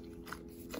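A single quiet crunchy bite into the crust of a pan-fried chicken thigh, close and brief with faint chewing and no talk.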